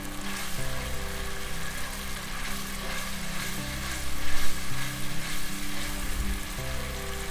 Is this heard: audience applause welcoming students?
no